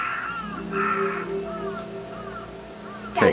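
Crows caw in a few harsh, repeated calls at moderate distance, each call a short ragged burst, with a louder sharp sound cutting in at the very end.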